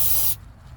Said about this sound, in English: Just going to use some brake clean here.